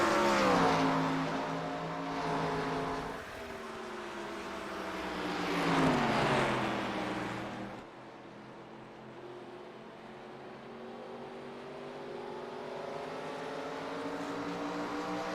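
Stock race car engine lapping Phoenix Raceway in a racing video game, loud and near, pitch rising and falling through corners before dropping to a quieter, steadier drone as the car recedes; no talk.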